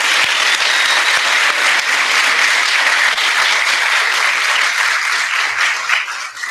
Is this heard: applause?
yes